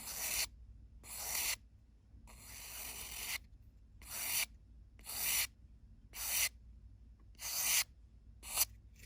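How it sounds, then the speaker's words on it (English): Hand sanding a Craftsman kit build: rhythmic, raspy back-and-forth strokes, about eight bursts with short pauses between, close and fairly quiet, no talking. "I'm sanding the opposite direction."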